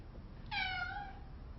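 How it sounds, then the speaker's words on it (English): A house cat gives a single clear, drawn-out meow indoors, close by and alone against a quiet room hiss. "And then my cat was meowing"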